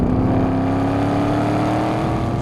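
A Chevrolet Camaro on a race track, its engine droning loud and steady at high revs under acceleration, the pitch rising slightly as it pulls.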